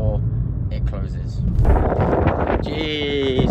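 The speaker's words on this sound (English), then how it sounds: "Jeez, it's a windy one." Outdoors, gusty wind buffets the microphone with a constant low, rumbling roar, while a voice talks over it.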